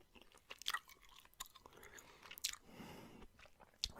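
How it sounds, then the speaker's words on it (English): Soft, close chewing of a piece of minty chewing gum, with moist smacks and occasional sharper clicks spread irregularly over a quiet background. "it's a bit of chewing gum"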